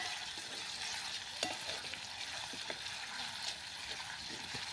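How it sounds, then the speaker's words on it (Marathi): Chopped onion stirring and sizzling in hot oil in a pan for brinjal bharta, a steady close frying hiss broken by soft scrapes and clacks of a spoon stirring. "कांदा तेलावरती छान परतून घ्यायचा आहे."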